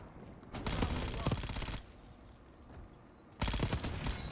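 Rapid machine-gun fire in the shooter Black Ops 6 comes in two loud sustained bursts, separated by a quieter stretch of background game noise, with no talk.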